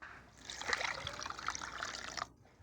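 Tap water running and splashing while shrimp are washed, a steady close trickle lasting about two seconds before cutting off abruptly.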